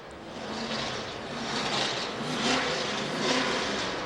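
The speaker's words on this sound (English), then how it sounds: "That man flipping the throttle is Bobby Allison" The NASCAR number 22 race car, driven by a racing legend, revs its engine at an auto auction, a loud roaring drone that swells and eases in waves.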